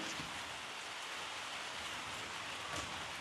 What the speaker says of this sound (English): Hope you're enjoying the rain.